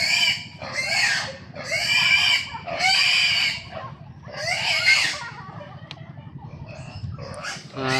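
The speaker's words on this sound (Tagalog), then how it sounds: "Kapakain ng baboy yan" Several farm pigs squeal loudly and shrilly while being fed, long overlapping screams in bursts with brief pauses, over a low rumbling background and a few quieter squeaks toward the end.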